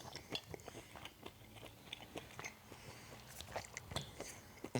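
Someone eats garlic shrimp capellini with lemon, shallots and basil, making close, quiet chewing and biting sounds with soft wet smacks in an irregular rhythm. There is no speech.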